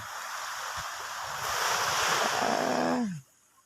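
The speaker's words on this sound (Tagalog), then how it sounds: "Ayan yung tubig. Kita ba?" Rushing water and surf wash loudly with wind noise at an evening campsite, swelling midway and then cutting off abruptly near the end.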